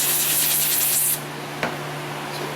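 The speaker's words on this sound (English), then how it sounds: "Wipe off some of the packing grease." A rag rubbing packing grease off a new Ford Escape brake rotor, a close, brisk hissing wipe for about a second, then a quieter scuff and a faint brief scrape, with no talking.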